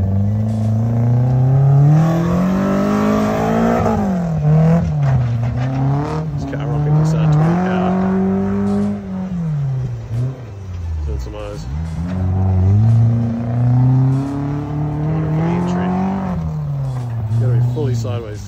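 Toyota Cressida drift car's engine revs hard and continuously on a track, pitch rising and falling as it slides sideways, loud and close, with tyre noise mixed in and a voice talking over it.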